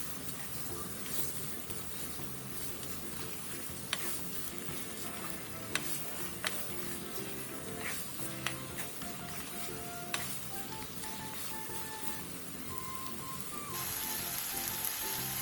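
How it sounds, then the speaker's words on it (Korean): Sundae, Korean blood sausage, stir-fried over medium heat in a pan, giving a steady close sizzle with scattered clicks and scrapes of stirring throughout, no talking. "그 다음 순대를 넣고 순대가 완전히 익을 때까지 중불에서 볶아주세요."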